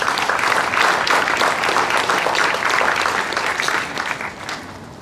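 Dense applause from an audience at the opening of a textile fashion center in Borås, a steady wash of many hands clapping that holds loud and fades slightly toward the end.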